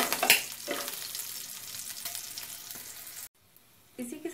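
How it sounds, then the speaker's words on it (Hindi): Panch phoron spices and chopped green chili sizzle and fry in hot oil in a pan for a pumpkin sabji, with a bright crackle and stirring, a short near-silent gap, then the sizzle returns. "इसके साथ ही मैंने एक हरी मिर्च ली है काट के, इसको भी डाल देते हैं। थोड़ा सा भुना देते हैं।"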